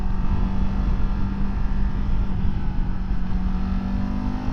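Kawasaki Ninja 7 Hybrid motorcycle engine running steadily with a constant low drone and a faint tonal whine, the note holding level with no clear gear-change break, loud and close throughout.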